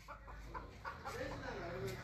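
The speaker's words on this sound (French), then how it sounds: "On veut que les poules entrent au poulailler." Chickens clucking near a henhouse as they are herded inside, short scattered clucks over a low outdoor rumble, with a person talking in the background.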